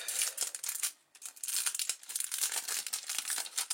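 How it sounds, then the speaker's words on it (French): Thin plastic film wrapping crinkles and crackles as the packaging of an iPhone 5 screen protector is opened, a close, continuous rustle with one brief pause partway through and no talk. "c'est un film très simple qu'on va ouvrir"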